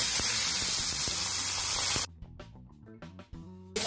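Water poured into a hot oil tempering with mustard seeds, cumin and asafoetida gives a loud, steady hiss for two seconds, then it drops to quieter bubbling.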